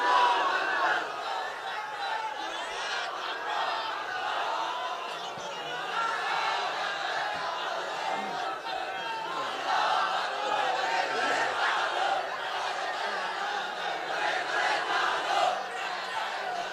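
An audience at an Islamic sermon gathering chants slogans in unison. The massed voices go on steadily for many seconds, with rhythmic surges and crowd chatter beneath.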